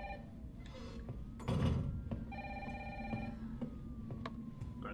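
A phone rings repeatedly in Resident Evil 3 Remake, electronic ring bursts mixed with a wailing siren and a thud, amid tense game ambience.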